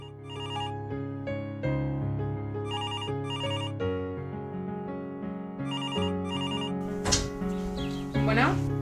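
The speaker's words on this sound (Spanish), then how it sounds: "hasta que un día Dylan, estando en Facebook, encontró su perfil y vio su número de teléfono y le marcó" A phone ringtone plays repeated melodic electronic chimes in a steady, looping pattern, close and clear, with brief voice sounds near the end.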